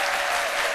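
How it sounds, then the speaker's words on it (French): Audience of women applauds loudly at a midday event in Cocody, a steady, dense wash of clapping filling the whole short moment with no voices. "On vous applaudit très fort"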